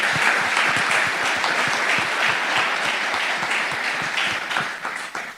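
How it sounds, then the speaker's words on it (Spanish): A church congregation claps to welcome visitors, loud, dense and continuous for several seconds before tapering off at the end. "Un aplauso para todos ellos"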